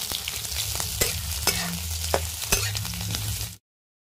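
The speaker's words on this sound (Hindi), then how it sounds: "ये प्याज और हरा मिर्चा को डाल दिए हैं, थोड़ा देर तक इसको फ्राई कर लेते हैं।" Onion and green chili frying in hot mustard oil in a wok over a village cooking fire, a loud continuous sizzle with sharp spatula scrapes and clatters every half second or so, stopping abruptly near the end.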